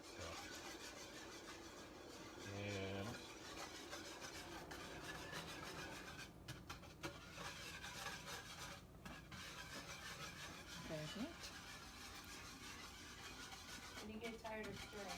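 A spoon scrapes and rubs steadily through thick Mackinac fudge in a pot in a Michigan kitchen, a continuous close rasping under a noisy room with murmuring voices.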